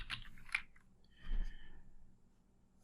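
Keys on a computer keyboard are tapped in a few quick, soft clicks, close and quiet, with a short pause between bursts.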